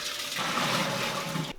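Water gushes into a pot still for distilling a molasses rum wash, a steady pour lasting just over a second and ending abruptly, loud and close.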